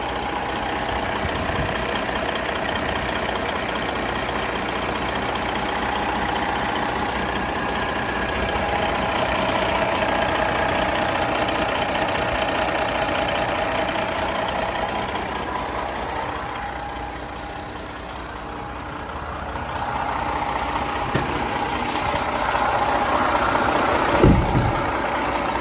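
A hot 2019 Western Star Glider kit daycab truck's diesel engine idles steadily and close by for the whole stretch, a constant rumble with faint knocking and a brief thump near the end, no talking.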